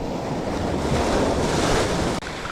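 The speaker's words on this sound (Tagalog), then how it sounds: "malalaking mga alon" Big waves crash and roll against a shore beside a diversion road as strong monsoon wind buffets the microphone, a loud, continuous roar with no talk.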